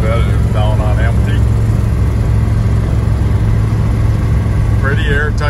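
A 1972 Chevrolet C10 big-block pickup's engine drones steadily at about 60 mph with road rumble throughout, and someone speaks briefly over it at the start and end.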